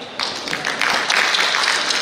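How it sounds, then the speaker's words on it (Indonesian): Applause from an audience at a municipal development-planning meeting in a hall: steady, dense clapping that swells slightly after a moment and holds at a moderate level throughout. "Tepuk tangan lagi."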